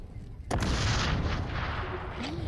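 A grenade blast in the shooter game XDefiant, a sudden loud boom that rolls into a long rumbling, crackling tail lasting a couple of seconds, alone without voices.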